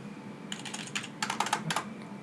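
A computer keyboard is typed on in short bursts, with quick clusters of close, crisp key clicks separated by brief pauses, against a quiet background.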